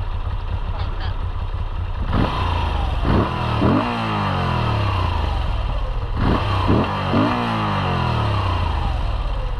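A motorcycle engine breathing through its exhaust mufflers idles, then revs sharply in two bursts of quick throttle blips, fairly close and loud over a steady idle.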